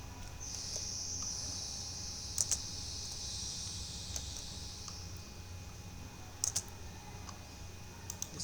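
Light, quick keystrokes on a computer keyboard in scattered short bursts as a formula is entered in an Excel spreadsheet, faint under a steady hum of background noise.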